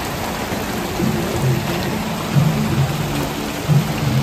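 Heavy rain pours in a steady dense roar, with low rumbles of thunder swelling a few times underneath, loud and close with no voices.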